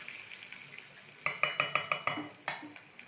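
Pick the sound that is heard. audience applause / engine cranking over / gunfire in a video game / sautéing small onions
sautéing small onions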